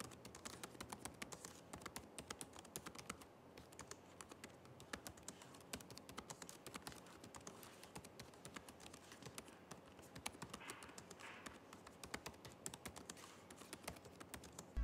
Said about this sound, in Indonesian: berikut ini deh contoh suara feedback dari keyboardnya